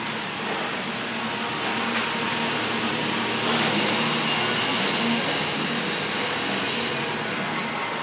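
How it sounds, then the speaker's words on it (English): A 40 horsepower screw compressor runs inside a shed at a college welding shop, giving a steady, loud broadband roar with a hissing airflow edge that swells slightly midway and continues without a break. "inside the shed there, we got a 40 horsepower screw compressor"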